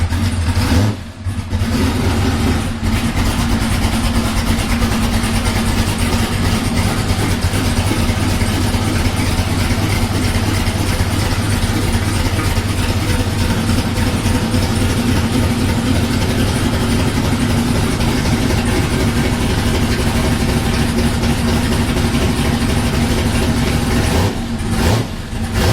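A turbocharged LS V8 swapped into a car idles after start-up, a loud, steady, deep rumble holding evenly for the whole stretch with only a brief dip near the start and end.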